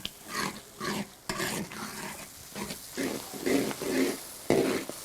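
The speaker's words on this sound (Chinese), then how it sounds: "继续给它炒出红油来。" Bean paste and chopped chili sauce are stir-fried in hot oil in a wok, giving a soft sizzle and rhythmic scraping of the spatula in short bursts, heard close up.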